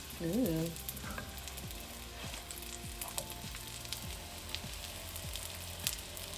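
Chickpeas frying golden brown and crisp in a pan, a quiet, steady close sizzle with scattered crackles and light pops, no talking.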